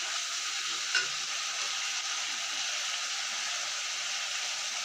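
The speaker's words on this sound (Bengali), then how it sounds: "মশলাটা আমি দিয়ে এবার ভালো করে নাড়িয়ে নিচ্ছি, ভাজা ভাজা হোক।" Masala with three green chillies frying in a pan for a Nepali-style katla fish kalia, giving a steady close sizzle and hiss with a faint clink of stirring and no voices.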